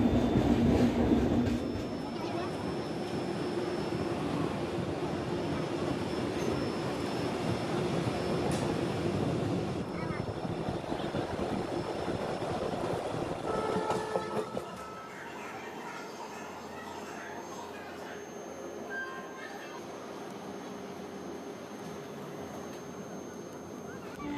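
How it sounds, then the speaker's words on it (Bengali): Steady rumble and rattle of the Shatabdi Express running on rails between Kolaghat and Balasore on the Howrah to Puri line, loud and continuous from inside the train, dropping to a quieter, thinner hum about two-thirds through. "আমাদের ট্রেন কোলাঘাট ছেড়ে বালাসোরের দিকে এগিয়ে চলবে"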